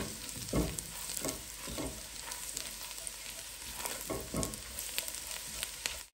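Chopped garlic fries in melted butter in a home kitchen pan, giving a steady close sizzle broken by occasional scraping stirs, with no voices.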